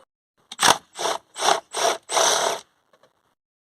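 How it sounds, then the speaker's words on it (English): Ratchet wrench on a 13mm battery clamp bolt while a car starter battery in a Mercedes-Benz C-Class is removed and replaced: five quick close bursts of clicking, the last one longer, then near silence with faint taps. "We'll pull the old battery out now, we'll get this new one in."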